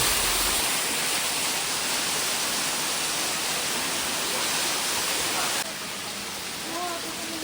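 Water rushes past a temple at Harkul Dam in a steady, broadband roar that fills the whole clip, with a slight drop in level near the end.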